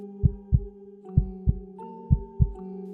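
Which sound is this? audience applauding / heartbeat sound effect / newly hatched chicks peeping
heartbeat sound effect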